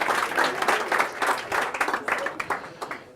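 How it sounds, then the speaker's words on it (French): An audience applauds at a speech, a crowd of hands clapping with a slightly uneven, pulsing rhythm, moderately close and tapering off toward the end. "que je vous demande d'applaudir"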